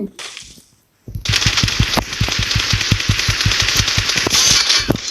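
Automatic gunfire in the video game PUBG Mobile, a rapid, evenly spaced burst of loud shots that starts after a brief pause and keeps firing for several seconds over a dense backdrop of game noise.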